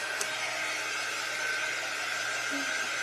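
A hair dryer runs steadily to dry a wet iron-on design on a plain bag, giving a constant, fairly quiet airy whir that holds unchanged throughout with no talking.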